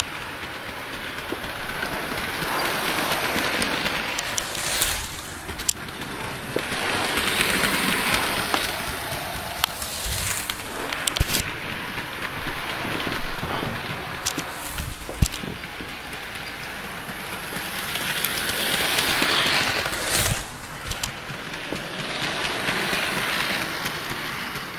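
Bachmann BR Class 7F model locomotive running past on a layout, a continuous whirring rumble with light rhythmic clicks of wheels over rail joints, swelling and fading as it passes repeatedly.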